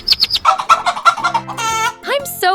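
A cartoon mother hen clucks in a rapid, bouncy series of close, bright calls, followed by higher squawking and warbling character-voice sounds.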